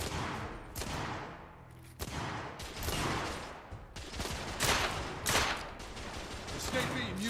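Bursts of gunfire aimed at an enemy in a billiards room in The Order: 1886, loud repeated shots and volleys in several clusters, with voices talking over them.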